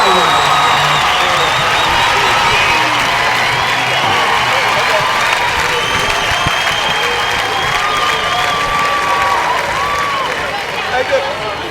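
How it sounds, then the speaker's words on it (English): An audience at a live comedy show recorded at a Porsche dealership claps and cheers, a dense, continuous wash of applause with scattered whoops that carries on throughout, with some talk mixed in. "Wayne, ladies and gentlemen, big round of applause."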